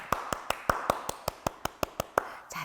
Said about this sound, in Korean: 우리 친구들 박수 쳐줄 거야.